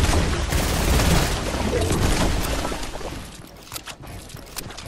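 Dense gunfire in a sky base battle video game, a loud continuous fusillade with booms that thins out into scattered shots toward the end.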